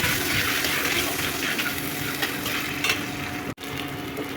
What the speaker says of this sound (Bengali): আদা আর কাঁচা লঙ্কা বাটাটা অ্যাড করতে হবে। ওটাও ভালো করে কষিয়ে নিতে হবে তেলের মধ্যে